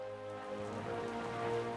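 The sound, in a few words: rain falling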